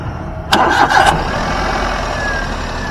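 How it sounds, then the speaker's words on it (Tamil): A small petrol Alto car engine cranks briefly with a couple of quick whirring bursts, catches, and settles into a quiet, steady idle. "வாங்க வண்டியோட இன்ஜின் சவுண்டு எப்படி இருக்குது அப்படின்றத கேட்போம்"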